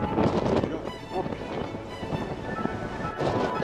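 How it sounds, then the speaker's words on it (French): Gusty wind in Sardinia buffets the microphone with a steady rumbling roar that surges at the start and end. "Je crois qu'il y a du vent"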